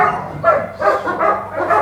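A German Shepherd barks repeatedly nearby, a series of about four loud barks in an uneven rhythm.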